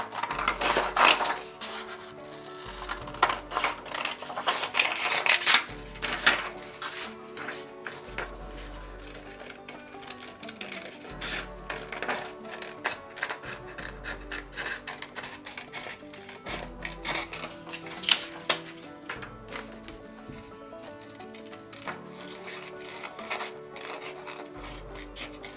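Scissors cutting out a traced paper pattern for a wedding dress with sleeves and a train, giving a long run of crisp, close snips and paper rustling in an irregular rhythm, with no speech.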